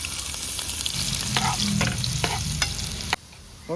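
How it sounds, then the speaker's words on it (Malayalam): Sliced onions sizzle in hot oil in a pan for a chicken stew, a continuous loud hiss with stirring scrapes that is cut off abruptly near the end. "എണ്ണ ചൂടായിട്ടുണ്ട് നമുക്ക് സവോള ഇട്ട് കൊടുക്കും"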